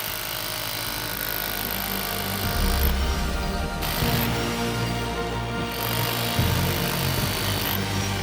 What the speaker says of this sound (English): The panel can even handle the demolition hammer.